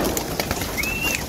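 Pigeons in a loft kept in a forest give soft, faint cooing calls and a thin whistling note against a busy, noisy background.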